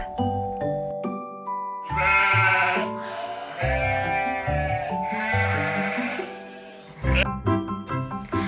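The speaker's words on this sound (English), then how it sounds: "There are two fluffy sheep." Two fluffy woolly sheep bleat over a bed of music, giving several wavering, nasal cries of moderate loudness that rise above the melody at intervals.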